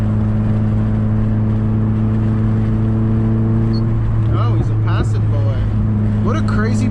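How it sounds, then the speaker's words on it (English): Inside a tuned 2015 Subaru WRX with the FA20DIT turbo engine and a burble mod, a steady droning engine hum runs throughout, with scattered popping crackle bursts later on and a voice speaking over it. "That burble mod, can't get enough of it."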